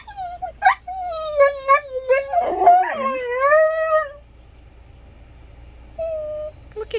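Dogs howl and whine on a campground morning, a rising, wavering howl with yips and whimpers over about four seconds, then quiet before one more brief whine.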